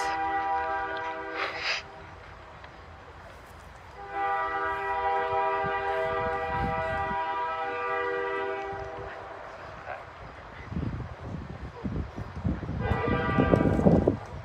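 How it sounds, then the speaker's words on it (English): A train horn blares in long sustained blasts, one short burst then a long steady call and another near the end, over low rail rumble and background noise during an outdoor funeral service. "The train should have been running when I said Paul's words, because if you remembered, he loved trains"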